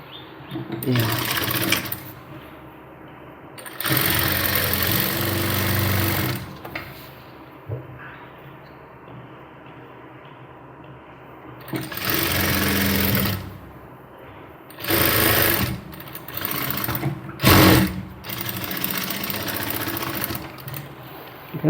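A sewing machine stitches the side seam of a kurti in bursts of rapid whirring, stopping and starting several times, with someone talking between and over the runs.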